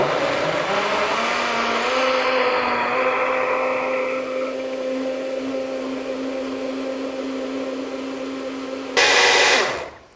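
A blender crushes washed spinach and other smoothie ingredients into a smooth drink, a loud, close, steady motor whine lasting about nine seconds, then a brief louder surge before it cuts off.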